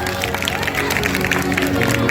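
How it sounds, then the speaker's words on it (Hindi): Applause and clapping ring out from a crowd at a Holi Milan gathering in Pragyakunj, Shaulana, with steady, dense hand claps and murmuring voices filling the space throughout. "एक बार करना चाहते हैं जोरदार तालियां।"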